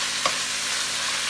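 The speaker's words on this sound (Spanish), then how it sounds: "vamos a sofreír lo que es la cebolla" Onion and shrimp sautéing in a pan, a steady soft sizzle running throughout with one brief clink near the start.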